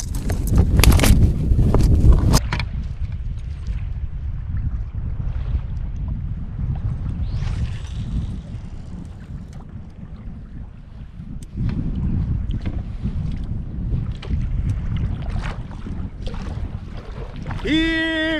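Canoe paddling on a remote northern Manitoba river during a fishing trip, with steady low water and wind rumble, a louder splashy burst at the start and a faint tonal whine near the end.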